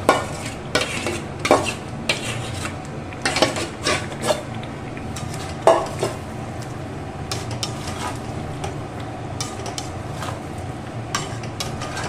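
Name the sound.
marinated chicken added to fried masala, sizzling and stirring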